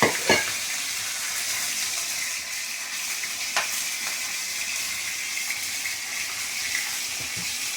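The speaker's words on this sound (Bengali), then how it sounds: "আর এখানে মাছের মাথা ভাজতে দিয়েছি। ফটাফট ফটাফট খুব ফুটছে।" Fish heads frying in hot oil in a home kitchen, a steady close crackling sizzle throughout with a few sharper pops, no voices.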